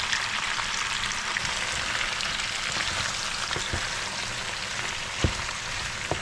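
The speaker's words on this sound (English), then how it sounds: "Garlic's frying." Peppers and garlic fry in plenty of oil, giving a steady close sizzle and crackle with occasional sharp pops and stirring scrapes, no voices.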